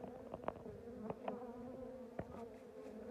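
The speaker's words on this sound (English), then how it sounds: "Loads of bees, no smoke." Honeybees in a strong colony, short of stores, buzz in a hive opened in January, a soft steady hum with a few louder passing buzzes nearby and no voices.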